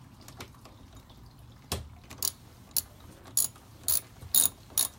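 Ratchet clicking as it tightens three nuts on a car's passenger-side mirror, a series of short, sharp bursts spaced about half a second apart after a quiet start, close and fairly faint with no talking.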